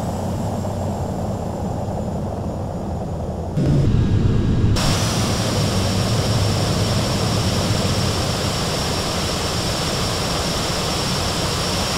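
A jet engine of the Blackbird One aircraft in Flight Simulator X roars at full takeoff thrust at Bromma Airport, a loud continuous broadband rush that swells briefly partway through and then holds steady.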